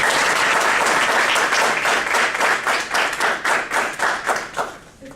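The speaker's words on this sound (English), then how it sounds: "Let's give ourselves a warm round of applause." Audience applause at an installation ceremony, a dense steady clapping that fills the room and then fades unevenly toward the end, with no talk over it.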